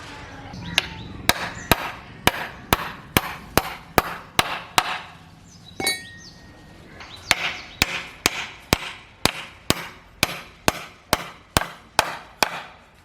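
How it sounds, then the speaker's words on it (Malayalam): A 20-inch wooden plank is hammered onto a wooden chicken cage with sharp, evenly spaced blows, about two per second, in two runs separated by a short pause, close and loud with no talking. "ശേഷം ഈ സൈഡിലേക്ക് കട്ട് ചെയ്ത് വെച്ച 20 ഇഞ്ചിൻ്റെ പട്ടിക ഇതുപോലെ ഇവിടെ അടിച്ചു കൊടുക്കുക."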